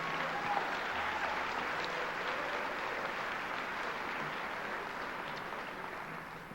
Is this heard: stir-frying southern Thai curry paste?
no